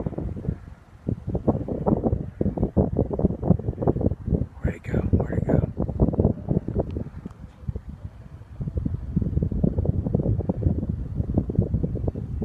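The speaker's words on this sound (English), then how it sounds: "it's really windy" Strong wind buffets a microphone outdoors at sunset, a loud, continuous rumbling roar with gusty surges throughout, while a person talks faintly beneath it.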